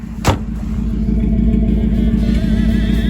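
A 1955 Chevy engine idles with a miss, a loud, close, steady low rumble, with a sharp knock near the start.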